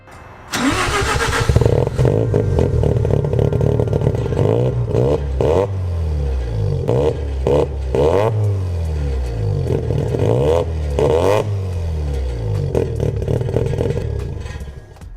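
A Mazda FC RX-7 engine with an upgraded fuel system cranks and catches, then revs up and down repeatedly in loud, rough bursts, close by and running continuously.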